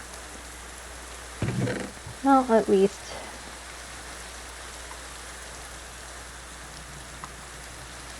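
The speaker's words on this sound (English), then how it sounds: "And now, of course, it's raining." Steady, soft hiss of falling rain in Minecraft runs throughout, with a voice briefly speaking over it near the start.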